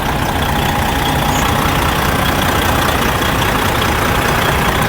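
A 1999 Freightliner Classic XL truck with a 12.7-litre Series 60 engine idles after a coolant leak repair, a loud, close, unbroken diesel drone with no voices.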